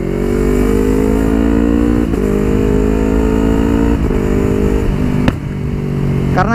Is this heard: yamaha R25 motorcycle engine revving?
yes